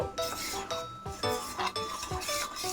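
A spoon stirs custard powder mixture in a bowl to keep it free of lumps, with close, rhythmic scraping and rubbing strokes and light clinks against the dish, repeating roughly every half second.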